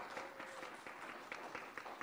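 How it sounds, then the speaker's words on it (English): A crowd in a seminar hall in Delhi claps to welcome the chairman on stage, with faint, steady applause heard from a distance. "Kindly welcome him with a big round of applause."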